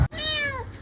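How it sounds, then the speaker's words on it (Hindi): A cat stuck up high gives a single short, clear meow, close and alone, that falls slightly in pitch. "एक जगह पहुँचे जहाँ पे एक बिल्ली फंसी है ऊपर"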